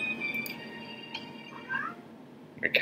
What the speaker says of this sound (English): My cat's being so naughty.